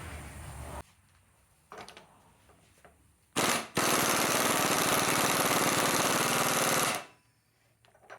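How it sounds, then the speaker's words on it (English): An impact wrench drives a rebuilt suspension part back in after it is started by hand: a brief hammering burst, a short pause, then a loud sustained rattling run of about three seconds before stopping. "then I'll just run it in with the impact again"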